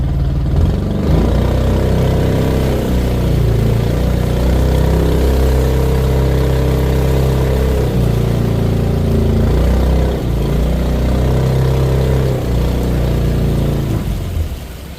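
A river boat's engine runs steadily at a constant idle-like drone, loud and close, with a deep low rumble and slight rises and dips in pitch over the whole stretch.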